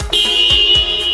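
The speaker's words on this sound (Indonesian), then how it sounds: "Ini suara klaksonnya." Horn of a 2020 Toyota Fortuner TRD, one loud sustained blare sounding up close and alone, with a slight warble through its length.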